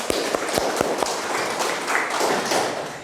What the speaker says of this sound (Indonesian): Tepuk tangan dulu buat Intan